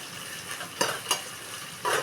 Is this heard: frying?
yes